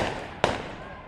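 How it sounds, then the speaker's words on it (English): A single sharp firework bang outdoors at a Fourth of July celebration near Cascade, Montana, loud and close, with a brief decaying rumble after it. "Fireworks never end here."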